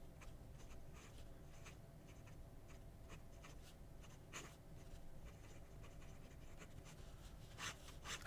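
A fountain pen fitted with a brand-new Springer nib writes on paper, giving faint, close scratchy strokes in short irregular bursts over a quiet background.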